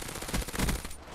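A quick burst of rapid automatic gunfire from a Black Ops 3 match, close and loud, with several shots fired in fast succession.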